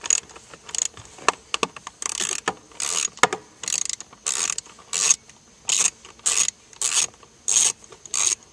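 A ratchet fitted with an extension turns a bolt on a blower. Close, repeated rasping bursts come in a steady back-and-forth rhythm, with no talking.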